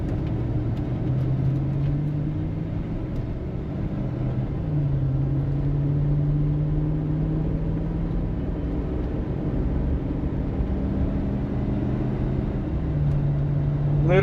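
A 2007 Hummer H2 Victory Red Limited Edition on the move, its engine running as a steady low rumble with gentle pitch shifts through gear changes, continuous and fairly close throughout with no talking.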